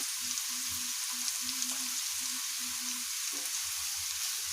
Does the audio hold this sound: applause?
no